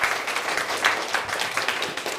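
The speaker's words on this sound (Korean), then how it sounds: "박수 한번 주세요" Audience applause at a youth church worship service: a dense, steady patter of many hands clapping together, fairly close and continuous, with no voices standing out.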